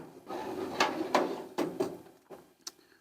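A metal toolbox drawer being pulled open, with a series of clicks and sliding knocks from the runners, followed by light rattling of tools inside.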